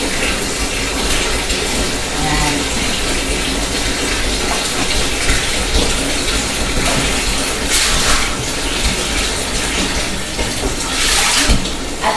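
Hot water pouring steadily into a bathtub for a bubble bath, a continuous broadband rush with no pauses, close and fairly loud throughout.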